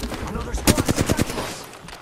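Gunfire in Apex Legends, a quick burst of about eight rapid shots in the middle of the moment, fairly loud and close, with game sounds before and after.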